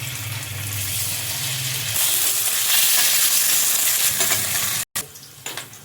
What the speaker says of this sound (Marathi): तूप गरम झालंय, आता मी इथे थोडं थोडं पनीर टाकून घेते कढईत।